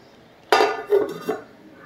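A metal lid is set onto a pot of Kalava fish curry cooking without oil, giving one sharp clank followed by two softer clinks as it settles, close and alone.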